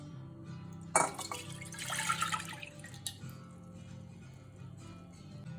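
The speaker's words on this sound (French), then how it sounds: "Donc vous venez verser votre lait." Milk poured into a pan for panna cotta: a short splashing gush of liquid that swells, then trails off into quieter trickling against a low steady background hum.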